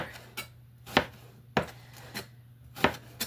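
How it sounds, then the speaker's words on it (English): A knife chops through rhubarb stalks on a cutting board in sharp, close knocks, roughly six irregular cuts with quiet scraping in between. "I am just going to continue chopping this"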